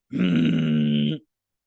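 A single low, rough voiced growl held for about a second, made by a person mimicking a dog, loud and close with no talking.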